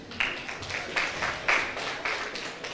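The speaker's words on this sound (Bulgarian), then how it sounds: "Още веднъж аплодисменти за Калина" An audience at a sportsperson of the year 2024 awards ceremony in Chirpan municipality claps for Kalina, with loud rhythmic applause falling into a steady unison beat.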